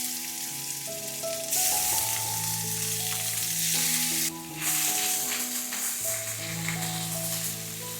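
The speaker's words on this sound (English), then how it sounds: "Sear the prawns for about a minute on each side and then turn it over." Marinated prawns sear in a hot pan with a bright, constant sizzle, close and steady, over a soft background of sustained musical tones.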